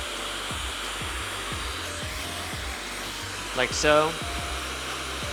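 A hair dryer on its cool shot setting blows on hair during a 90s-style blowout, a steady close-up whirring drone throughout, with a brief spoken remark partway through.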